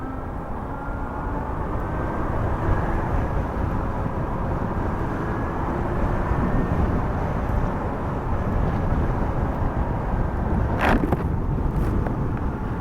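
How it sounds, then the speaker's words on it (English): A Super Soco TC MAX electric motorcycle with a belt drive rides along, its faint, steady whine sitting under a heavy, continuous rumble of wind and road noise, with no one speaking. "You have a belt drive, so you will hear the belt drive, which is like a little bit of whining and stuff."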